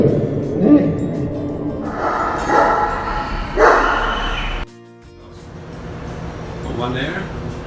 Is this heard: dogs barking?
yes